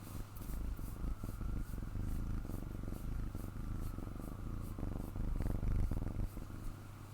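A kitten purrs up close, a continuous low rumbling drone with a steady pulsing rhythm and no voices.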